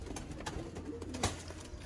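A golden female breeder pigeon coos softly in a loft, giving a brief, faint murmuring call against low background noise.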